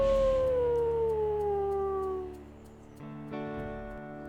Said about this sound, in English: Oh, we can hear our pack members howling.